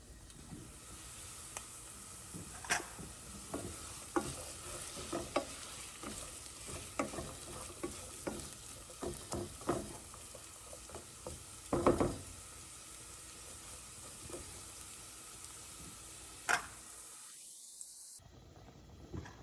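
Onions sautéing in a pan for Igado, a low, steady sizzle with scattered sharp clicks of a utensil against the pan and one louder scrape partway through.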